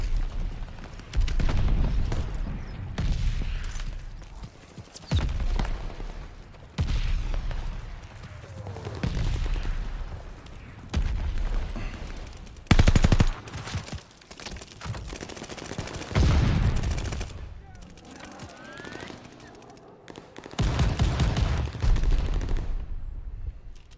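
Light machine gun fire in the video game Call of Duty Vanguard: repeated loud bursts of automatic gunfire with brief gaps between volleys, plus heavier blasts, and no talking.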